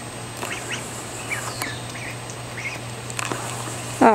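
Small ducks give soft, scattered quacks and peeps over a steady low hum, with light splashing and a louder quack at the very end.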